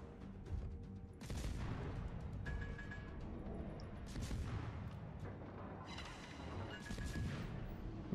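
Warship guns fire in the World of Warships naval battle game: several booming salvos spaced a second or two apart over a low, steady rumble, all fairly faint.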